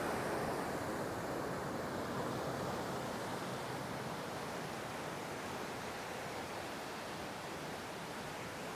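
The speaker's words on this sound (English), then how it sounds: "I love the sound here from the waves." Ocean waves at Vila Franca do Campo in the Azores produce a continuous broadband rush of surf, steady and fairly soft, with no voices over it.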